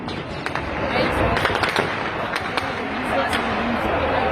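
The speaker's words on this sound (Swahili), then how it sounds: "Hiyo ni bunduki bana." Sharp gunshot-like cracks go off at a street protest in Nairobi, Kenya, where crowds chant to occupy Parliament. Several short, loud bangs burst irregularly over dense, continuous crowd noise and shouting.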